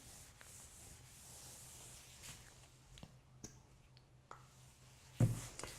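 Cotton cloth rubbing wood stain into the surface of a wooden base, a soft, quiet, continuous scuffing with a few faint taps and one brief louder knock near the end.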